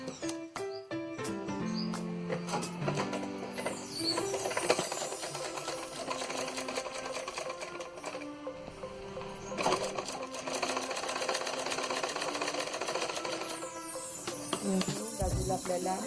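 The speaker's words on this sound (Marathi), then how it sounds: "बाजूला आपल्याला शिलाई मारायची आहे" A sewing machine stitches the side seam of a purse, running steadily and close with a continuous whirring rattle for the whole stretch, pausing briefly near the end.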